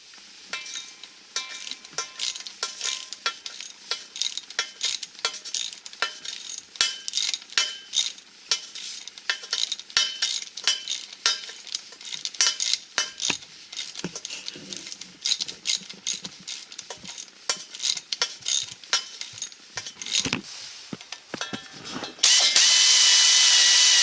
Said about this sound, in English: We're using a 7/16 socket. We're going to get these 4 bolts out.